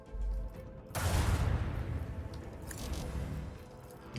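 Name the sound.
salvo of weapons fire in Warhammer 40K video game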